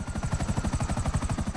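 Helicopter in GTA V Online, its rotor beating in a fast, even chop with a steady engine whine beneath, close and loud with no talk.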